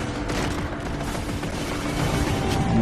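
Heavy gunfire from a Halo 4 firefight, with dense, continuous shots and booming blasts on a Mythic-difficulty level, loud and sustained throughout without any speech.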